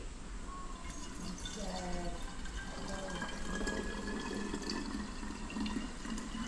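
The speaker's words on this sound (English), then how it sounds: "pour from A to B" Water kefir pouring steadily into a jar for its second ferment, a continuous trickling splash with a rising tone as it fills, with people talking over it.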